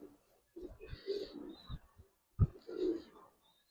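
Giribaz or coloring pigeons produce soft, low coos in two bursts separated by a short pause, with a sharp knock between them and a faint higher chirp above.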